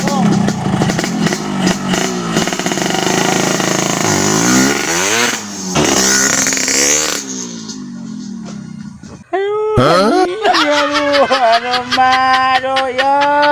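A motorcycle engine revs loud and close, its pitch sweeping up and down in repeated bursts, briefly dropping off before roaring back with a rapid, rising throttle.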